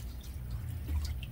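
Vinegar poured into a fish aquarium tipped on its side, giving a wet sloshing splash with a few drips and a low liquid rumble, close and moderately loud, no talking.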